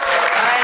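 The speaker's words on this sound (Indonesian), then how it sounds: "Tepuk tangan dong untuk semuanya" Audience applause at a stand-up comedy battle show, a dense steady burst of clapping from a crowd, loud and continuous without a break.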